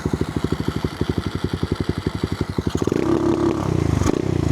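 A pit bike engine fitted with an adjustable rev limiter set at 4,000 RPM chugs in a steady, even idle pulse, then jumps into a louder, sustained rev held near the limit.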